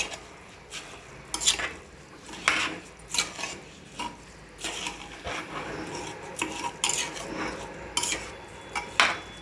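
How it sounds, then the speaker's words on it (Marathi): Soaked rice being stirred into a pot for soybean pulao, heard as repeated scraping and rubbing strokes of a spoon against the metal, close and steady over a faint sizzle, with no talking. "आता व्यवस्थित हलवून मिक्स करून घ्यायचं आहे."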